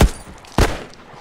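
Two sharp gunshots in The Last of Us multiplayer, loud and close, spaced about half a second apart, each a hard crack with a short decaying tail, no voices.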